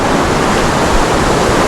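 A river in East Java rushing loudly at a rope crossing, a dense, constant roar of fast water close by with no talk over it.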